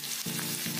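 Momo chutney ingredients fry lightly in a pan with a steady close sizzle, broken by two short stirring scrapes, with no voices.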